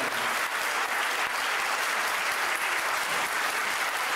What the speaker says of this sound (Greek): Ένα χειροκρότημα φέρνω στον κύριο Υπουργό.